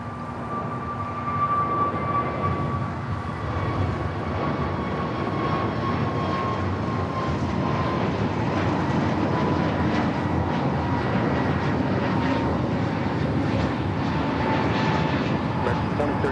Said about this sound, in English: Hawaiian A330, flight 9, heading back to Honolulu